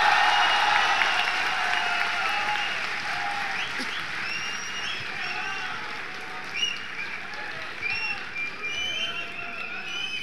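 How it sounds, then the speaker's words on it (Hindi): An audience at a grand mushaira poetry gathering at the Jashn-e-Rekhta festival bursts into loud applause welcoming a poet to the stage, sustained clapping that slowly thins out, with some whistles cutting through. "ज़ोरदार तालियों से जावेद अख्तर साहब का इस्तकबाल।"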